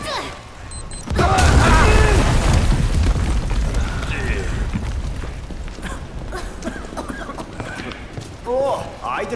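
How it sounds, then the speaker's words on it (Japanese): A loud bomb blast in the video game Final Fantasy 7 Remake bursts in after a second of quiet, then rumbles and decays under game sounds while people talk. "じゃ、爆弾仕掛けるから離れて。"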